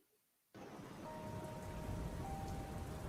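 Steady, loud rain on a stormy night begins abruptly after a brief silence and hisses on without pause; a faint tonal hum runs through it, and no distinct thunderclap stands out.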